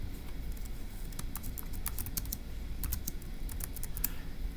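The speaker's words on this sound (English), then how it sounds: "So let's go ahead and type that up in section D." Someone types on a computer keyboard while working a Turing Machine logic puzzle. Fast, steady clicking of keys runs throughout over a low background hum, with no talk.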